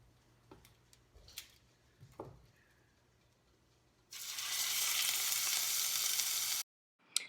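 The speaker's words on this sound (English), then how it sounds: "Listen to that sizzle." A few faint clicks and taps, then a loud, steady sizzle bursts in as salmon hits a hot pan, cutting off abruptly near the end.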